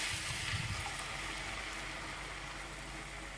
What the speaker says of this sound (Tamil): இது நல்லா கொதித்து வரட்டும்.